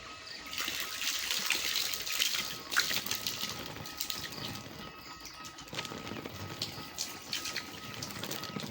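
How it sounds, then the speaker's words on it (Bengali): Water drains out of a fish trap set in a pond where singhi catfish are caught, making a continuous close splashing and trickling patter. "জল বের করে দেখাচ্ছি"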